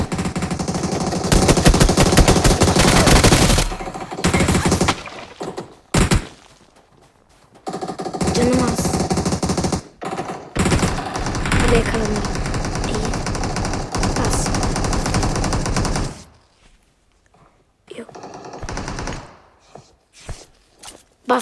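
Gunfire from the video game PUBG Mobile crackles in dense bursts of rapid automatic shots with brief pauses between volleys, loud and close.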